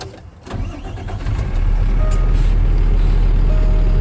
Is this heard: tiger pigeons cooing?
no